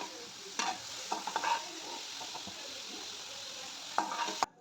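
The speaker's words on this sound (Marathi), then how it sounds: "तर या ठिकाणी आपल्याला मेथी टाकायची आहे व मस्त नीट परतून घ्यायची" Fenugreek leaves are stir-fried in a pan for garlic methi, with a soft continuous sizzle broken by a few clattering scrapes of the spoon.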